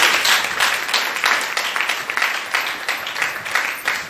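A church congregation applauding Jesus during a Sunday worship service, dense sustained clapping from many hands with a rough, slightly pulsing rhythm, loud and continuous throughout.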